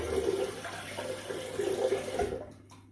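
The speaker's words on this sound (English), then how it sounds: "I'm just going to run this water out of the sink." Water running and draining out of a bathroom sink after shaving, a steady close gurgling wash that continues for most of the moment before cutting off abruptly near the end.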